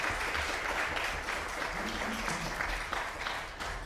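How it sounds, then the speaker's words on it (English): A church congregation at an Easter Sunday service claps for the children, a moderate, fairly quiet round of applause with a faint murmur of voices underneath. "actually a big round of applause for all these"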